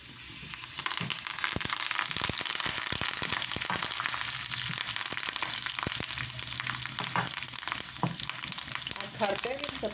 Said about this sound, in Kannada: ಕರಿಬೇವಿನ ಸೊಪ್ಪೆಲ್ಲ ಎಣ್ಣೆನಲ್ಲಿ ಒಂಥರ ಕುರುಮ್ ಅನ್ನೋ ಥರ ಆಗಬೇಕು. ಅಂದರೆ ಅಷ್ಟು ಫ್ರೈ ಆಗಬೇಕು